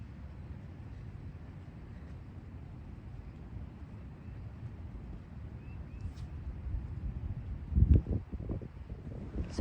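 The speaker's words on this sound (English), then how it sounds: "It is so windy though." Strong cold wind outdoors on a trout fishing day, a steady rushing roar buffeting the microphone throughout, with a few louder gusts and knocks near the end.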